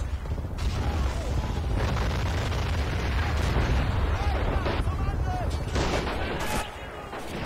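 Rumbling explosions and bursts of bazooka fire destroy tanks in the Men of War: Assault Squad 2 video game, a dense, continuous battle din with overlapping blasts and mechanical clatter.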